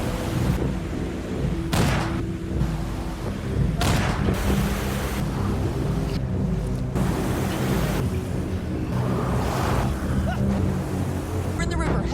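Turbulent river water rushes loudly and continuously in a film scene as people flee downstream, a dense broadband roar with rumbling low end that persists throughout.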